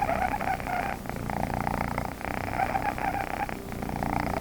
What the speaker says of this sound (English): His purr is ridiculous, and it often gets to the point where he's absolutely whistling.